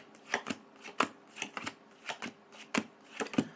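Oracle cards are shuffled by hand in quick riffling bursts, about a dozen brisk flicks in an uneven rhythm, close and clear with no talking over them.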